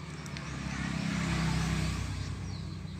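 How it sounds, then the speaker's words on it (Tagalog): Motorcycles pass close by on a roleplay game server, giving a steady engine drone that swells to a peak midway and eases off slightly without fading out, and no talk is heard. "Mga motor kasi dito eh."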